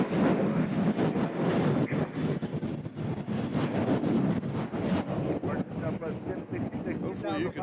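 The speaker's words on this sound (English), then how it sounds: "It's awfully windy out here." Strong wind buffets the microphone with continuous rumbling gusts outdoors at Nashville International Airport, while a voice speaks underneath throughout.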